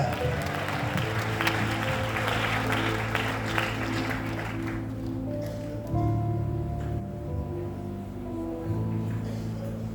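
A church congregation claps loudly during a Tamil Christian testimony service; dense applause fills the first few seconds, then thins out beneath sustained keyboard or organ tones that carry on to the end.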